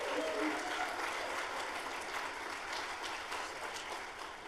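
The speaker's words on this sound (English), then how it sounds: "Let's practice a round of applause." An audience at a demo day claps together in a practice round of applause, a dense, even wash of clapping that holds steady throughout and fades slightly at the end.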